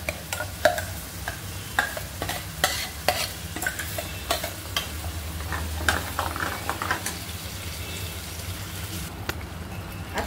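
Onion and tomato sauté in a pan for a paneer tikka masala curry, with a low, steady sizzle broken by repeated sharp scraping and tapping from stirring, close and fairly quiet.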